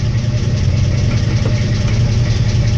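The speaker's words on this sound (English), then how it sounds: "I like to keep her at a nice low idle when she's stone cold." A cold 1964 GMC truck engine idles low and steady, a close, loud, even rumble with a slight knocking pulse and no voices.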